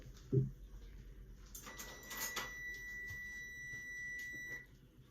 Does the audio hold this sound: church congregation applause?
no